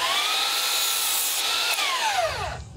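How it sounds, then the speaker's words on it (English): A miter saw cutting a wooden board, a loud sustained whine that drops in pitch as the blade spins down at the end, close up with no voices. "I'll cut that off at the miter saw"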